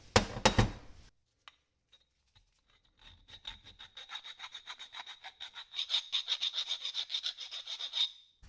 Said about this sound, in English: I'm just going to clean them up a little bit with a file